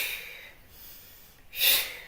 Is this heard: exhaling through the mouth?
yes